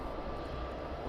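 An airliner's engines roar at full takeoff power as it rotates in a slight crosswind at Luton Airport, a steady, loud, broadband rush.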